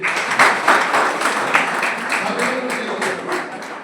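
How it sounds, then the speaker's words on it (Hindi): Applause from a seated audience at a sociology lecture at a law college, steady dense clapping that swells and fades over a few seconds, with some chatter underneath. "इनके लिए ताली बजाइए"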